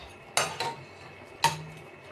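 A utensil stirs tomato paste into butter shrimp in a pan, producing three sharp metallic clinks against the pan over a couple of seconds, close and otherwise quiet.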